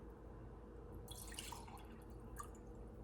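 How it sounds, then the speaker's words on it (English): Rose water drips and trickles faintly into a face cream mixture of beeswax and oils, a few soft liquid splashes over a low background hum. "For my liquid portion, I'm going to add a 1/4 cup of rose water."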